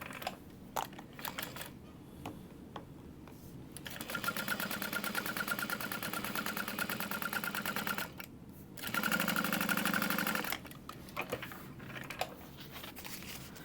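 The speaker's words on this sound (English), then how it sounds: "I'm just going to go ahead and stitch it down, 1/4 of an inch seam allowance." A sewing machine stitches a bag seam at a quarter-inch allowance in two steady bursts of fast, even needle chatter, separated by a short pause and framed by scattered handling clicks.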